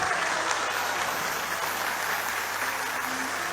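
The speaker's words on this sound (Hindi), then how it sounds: "आपकी तालियां कम है इसलिए सुनाने का मन नहीं कर रहा।" A crowd at a Hindi poetry recital claps steadily in a large venue, a dense and sustained roar of many hands at a constant level with no one speaking.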